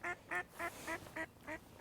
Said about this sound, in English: Even the ducks approve.